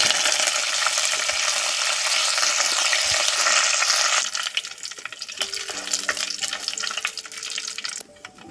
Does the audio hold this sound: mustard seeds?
yes